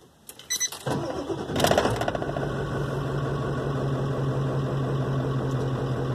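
A Ford 7.3 Powerstroke diesel engine cranks and catches, running with only the injection pressure regulator and engine control module connected, then settles into a loud, steady, clattering idle drone close by with no talking.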